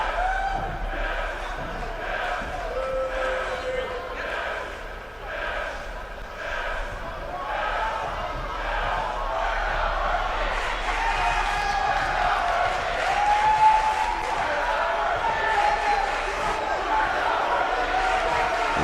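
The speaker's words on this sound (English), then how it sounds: "And Vengeance again is lighting that fire under this crowd" A crowd at a wrestling event in the WWE 2K19 video game cheers and murmurs as a continuous wash of noise that swells slightly toward the end, with a commentator talking over it.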